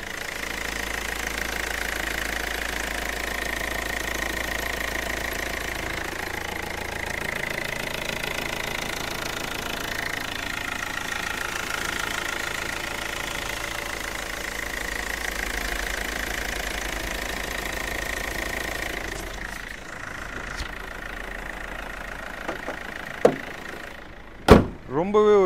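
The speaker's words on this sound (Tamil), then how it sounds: "வண்டியோட இன்ஜின் நாய்ஸ் நான் உங்களுக்கு மைக்கை பக்கத்தில் வச்சு எப்படி இருக்குன்றதை காட்டுறேன்" Close-miked 2009 Hyundai Verna CRDi diesel engine idling steadily with a low rumble for most of the clip, then a few sharp knocks and clicks near the end.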